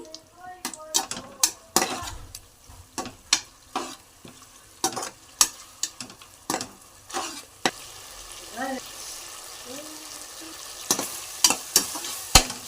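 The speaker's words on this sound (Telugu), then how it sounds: "కొద్దిగా కొత్తిమీర వేసుకుందాం వేసుకొని టమాటాలు బాగా మగ్గేదాకా ఫ్రై చేసుకోవాలి" Tomatoes and coriander frying in a pan, with steady sizzling under repeated sharp scrapes and clinks of a spoon stirring against the metal, close and fairly quiet.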